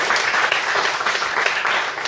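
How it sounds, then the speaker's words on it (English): An audience gives a round of clapping at an event, a steady, even wash of many hands applauding at moderate level, with no talk standing out. "Give him a big clap."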